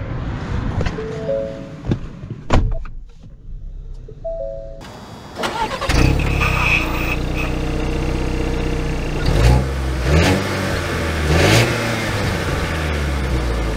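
A 2023 Ford Bronco Sport Heritage Edition starts up with a brief crank, then settles into a steady idle that rises as the car pulls away, with engine revs swelling and easing under road noise.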